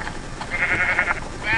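A Minecraft sheep gives a short wavering bleat, close and fairly loud, heard alone.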